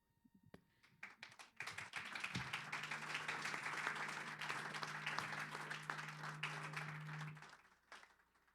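Audience applause at a talk on private art collecting, a scattered start of individual claps swelling into steady, fairly distant applause that fades out after several seconds.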